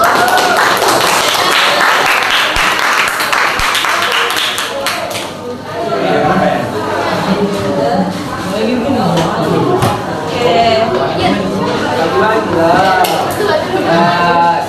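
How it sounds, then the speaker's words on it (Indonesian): A classroom group in a junior high school microteaching session claps loudly for about five seconds, then talk takes over with scattered taps and thumps. "nah tepuk tangan lagi dulu untuk"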